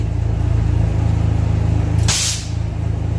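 Airlift 3P air suspension on an SRT-4 car lets out one loud, sharp burst of air over a steady close engine idle, then the hiss cuts off.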